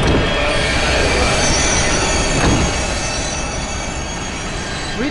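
Continuous video game train noise: a loud rumbling roll with screeching metallic wheel squeal, steady throughout, with no voices.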